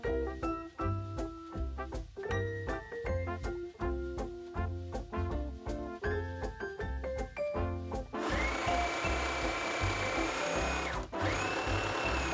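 A sewing machine runs along the bias-cut lining seams of a 1940s-pattern skirt, a steady rhythmic mechanical whir heard close up under background music.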